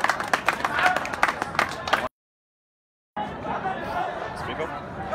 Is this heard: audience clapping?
yes